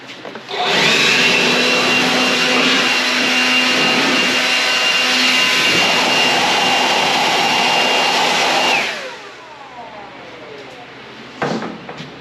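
A power drill bores through wood for a DIY candle sconce, a loud sustained whine from about 0.7 s to 9 s that then winds down, followed by a short clunk near the end.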